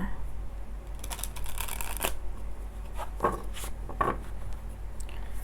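Tarot cards being shuffled close by, a quick flurry of crisp riffling and slapping bursts followed by a few separate card flicks, over a low steady hum.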